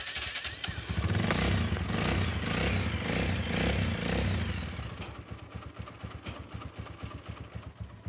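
A second-hand motorcycle with a slightly leaking silencer runs close by, revving in a loud, steady rumble, then dropping to a lighter, rhythmic idle with mechanical clatter.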